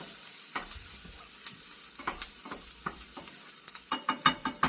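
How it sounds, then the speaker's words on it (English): Florida shrimp pie filling stirred in a pan, a steady low sizzle under a series of spoon scrapes and clinks that grow louder and more frequent toward the end, no talking. "Give it a good stir."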